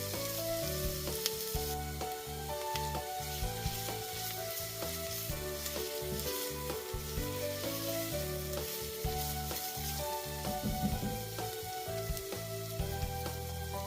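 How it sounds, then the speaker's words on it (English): Onion fries in shimmering oil in a Dutch oven over medium heat, giving a steady close sizzle with occasional scraping and stirring sounds, with no talking. "Add the onion, stirring occasionally until softened."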